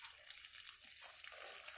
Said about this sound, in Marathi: आपण याच्यामध्ये आता पाणी टाकणार आहोत